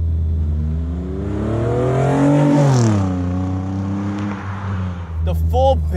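A Toyota RAV4 with a 2GR V6 engine revs up in a single strong pull, the engine note climbing to a peak and falling back to a steady idle, loud and close, with a person talking briefly near the end.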